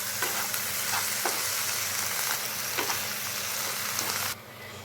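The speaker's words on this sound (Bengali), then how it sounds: "এবার শ্বাসগুলোর সাথে চিংড়ি মাছকে আমি খুব ভালো মতন ভেজে নেব।" Shrimp fry in a pan with pointed gourd, salt and turmeric, a loud steady close sizzle with scattered stirring scrapes and clacks, ending abruptly as the sizzle drops away, no voices.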